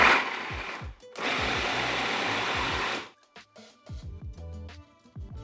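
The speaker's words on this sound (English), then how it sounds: "I'm going to pulse it carefully, maybe 4 to 5 pulses" A food processor whirs in two bursts while pulsing chickpeas for falafel, then goes quiet apart from a scattering of light knocks and scrapes.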